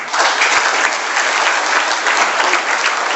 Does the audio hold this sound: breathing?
no